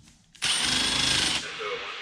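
A power drill drives a screw into a homemade airplane pre-heater, making one loud, whirring burst of about a second that cuts off abruptly, followed by a quieter tail.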